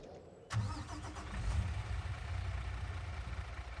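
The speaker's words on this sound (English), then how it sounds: "We're used to driving this truck." A truck engine in Farming Simulator 22 starts abruptly after near silence and settles into a steady, loud, low rumbling drone, with no talking.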